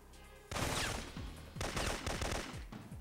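Gunfire in the game Syphon Filter, a fight inside a chapel: two loud sustained bursts of rapid automatic shots, close and dense, separated by a brief lull.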